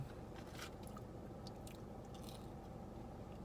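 Crunchy Taco Bell nacho fries being bitten and chewed close to the mic, steady soft crunching and mouth sounds with no talking.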